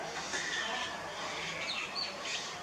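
Birds feeding a baby cuckoo fledgling around farmland near Chiang Mai give a few faint, high chirps over a steady hiss of outdoor background noise.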